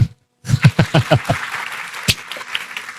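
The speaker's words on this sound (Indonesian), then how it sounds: "Tepuk tangan" Applause at an Indonesian political discussion event: a short burst of separate loud claps, about eight in a row, then a softer crowd patter with one sharp clap near the end.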